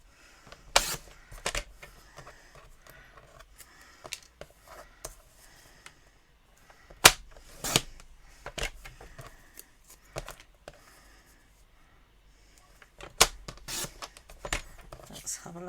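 Scissors cutting paper close around a stamped sentiment for a candy cane pouch, a series of faint sharp snips and rustles scattered through quiet, with someone talking between cuts.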